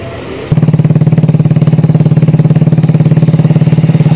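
A motorcycle engine idles loud and close in a long traffic queue at the Kali Glidik bridge between Lumajang and Malang. It starts abruptly, then holds a steady, rapid pulsing throb on its own.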